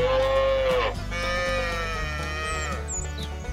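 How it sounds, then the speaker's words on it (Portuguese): Young calf calling on a farm, a strong drawn-out bleat-like moo in the first second followed by softer tonal calls, with steady low livestock and farmyard rumble underneath. "O som do terneirinho é esse"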